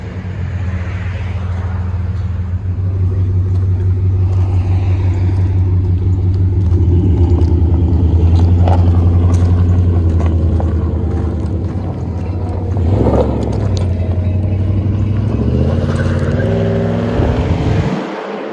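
A 2001 Dodge Ram 1500 with a 5.9 L Magnum V8 and factory catalytic converter rumbles deeply at idle, then revs up and down in loud, close bursts, with one sharp blip late on.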